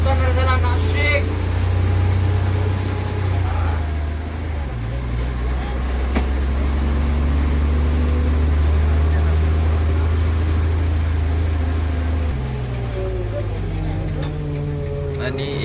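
An MSRTC Tata CNG Lal Pari BS6 bus pulls into the Nashik Mahamarg bus stand. A steady low engine rumble is heard from inside the cabin, and voices talk over it.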